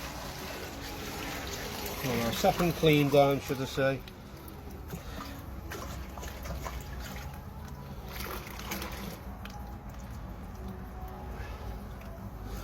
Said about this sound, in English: now we can pour our second mix through the bag